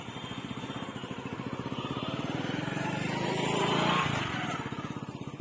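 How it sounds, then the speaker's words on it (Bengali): A motorcycle engine pulls up nearby with a rapid, steady putter that swells louder toward the middle and then eases off as it settles, with no talking over it. "বাইক এসে গেল।"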